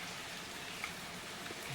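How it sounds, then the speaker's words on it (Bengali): Steady rain falls outdoors, a soft, even hiss of drops with a few faint patters on a surface and no voices. "বৃষ্টি চলছে তো চলছে,"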